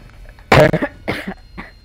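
A sharp, harsh cough bursts out, followed by two shorter, weaker coughs trailing off over the next second.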